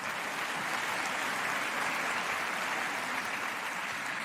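Steady, full audience applause from a stand-up comedy crowd, continuous and even throughout with no voices on top.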